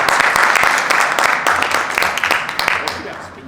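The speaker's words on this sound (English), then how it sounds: "Another round of applause." A school audience gives a principal a steady round of loud, close applause from many hands, lasting the whole moment.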